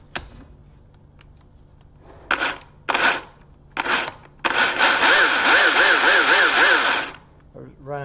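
A Husqvarna 120i battery-powered chainsaw with a freshly replaced chain whirs loudly for about two and a half seconds near the end, after a few short bursts of a voice, then stops.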